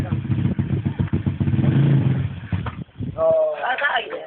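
A pit bike engine revving hard with a throaty, clattering roar that drops off partway through, close and loud, while a person speaks over the end.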